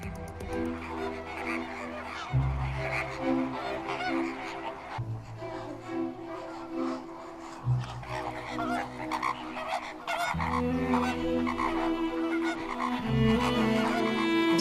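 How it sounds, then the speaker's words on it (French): A flock of greater flamingos in the Camargue keeps up a continuous chorus of honking, goose-like calls, loud and layered, with repeated low grunting bursts from nearby birds. "on vous emmène en Camargue à la rencontre des flamants roses"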